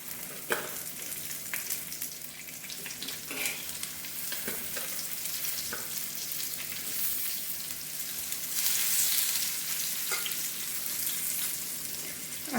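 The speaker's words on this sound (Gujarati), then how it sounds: "તેલ ગરમ થઈ જાય ત્યારબાદ તેમાં આપણે ભરેલ ભીંડાની સીંગું નાખી દઈશું।" Stuffed okra, Kathiyawadi-style bharela bhindi, fries in hot oil in an iron pan with a steady, close hiss of sizzling, marked by occasional clicks and scrapes of stirring, swelling slightly louder near the end.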